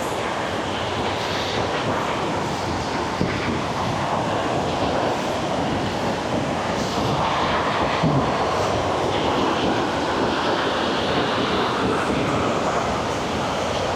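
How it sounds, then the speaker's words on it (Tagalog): Water flowing toward Hulugan Falls in Laguna, a steady broadband rush heard close by and continuous throughout, with no talking over it. "Yung nasa kanan natin, yan na yung tubig na dumadaloy dun sa Hulugan Falls."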